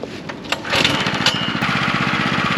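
Small Manco go-kart engine, whose oil cutoff keeps killing it in turns, revs up after a few knocks and runs loud and close with a rapid, steady putter.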